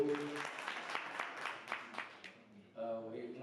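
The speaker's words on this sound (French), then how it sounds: "Merci aussi pour l'applaudissement" Audience at a Togolese diaspora general assembly gives a short round of clapping, dense and fairly distant, fading out after a few seconds before a voice speaks.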